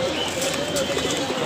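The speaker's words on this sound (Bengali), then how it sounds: "এখানে শুল্লি কবুতর দেখতেছি।" Pigeons coo at a pigeon market in Mirpur, soft repeated cooing mixed into a busy crowd with people talking nearby.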